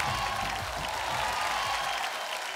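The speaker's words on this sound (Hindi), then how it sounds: "जोरदार तालियां फॉर पवन सिंह" Applause and crowd noise at the IBFA 2019 Bhojpuri awards show, honouring Pawan Singh: a dense, even wall of clapping from a large audience, sustained and fairly distant, with a few cheers mixed in.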